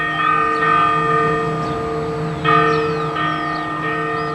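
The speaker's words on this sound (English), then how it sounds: "We wake at dawn to church bells ringing in the day" Church bells ring at dawn in Antigua, Guatemala, sustained strokes sounding at a moderate distance, with fresh strikes renewing the humming, overlapping tones every second or so.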